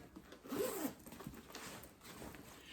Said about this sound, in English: We've got 3 zippers here